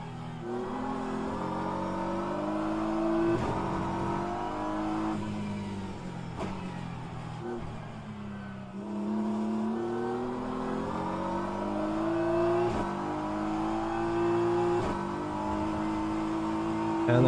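Race car in the rFactor 2 sim at Interlagos, its engine droning steadily and loud throughout, rising and falling with revs through gear changes and bumpy sections, with no voices.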